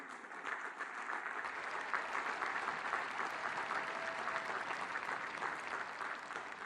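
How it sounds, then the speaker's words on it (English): A sustained round of applause from a large audience at a Spears School of Business spring commencement, dense even clapping that holds steady at moderate volume without pause. "Let's give them a round of applause."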